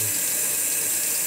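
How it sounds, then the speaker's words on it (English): Cold tap water running in a steady, close, continuous stream for making kombucha, heard alone. "And I'm using cold water."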